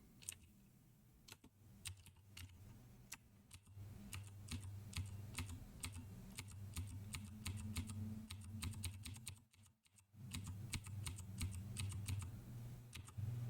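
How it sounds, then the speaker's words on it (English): Fast, irregular keystrokes on a computer keyboard while building CircuitPython on a computer, clicks close and steady throughout with a short pause near the ten-second mark and a low hum beneath. "boy, I can't even type."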